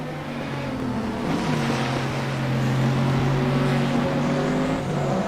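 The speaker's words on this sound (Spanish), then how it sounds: "hola, soy un motor americano. Por debajo de 2000 revoluciones soy una mierda, pero por encima de 4000 te mato" An American car engine revs in the RaceRoom racing game, a steady loud drone with harmonic pitch rising and falling as the revs shift, close and continuous with no talk.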